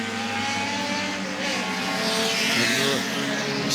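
Historic race cars at the Goodwood Revival roar past side by side into a corner, with loud, layered engine drone and a brief rising whine, heard from trackside with a faint commentator voice underneath.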